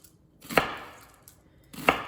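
A knife chops through an onion on a cutting board during home cooking, two sharp, close chops about a second apart over a quiet room.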